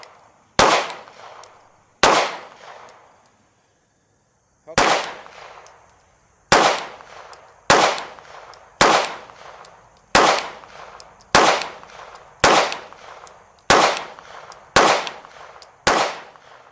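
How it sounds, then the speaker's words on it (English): A pistol fitted with an ADE NUWA PRO sight fires about a dozen loud, sharp shots at a range of about 10 yards. The shots come one at a time at a steady pace, and each one rings out briefly outdoors. "We're shooting about 3-4 inches high now, and it's pulling just a little bit to the right."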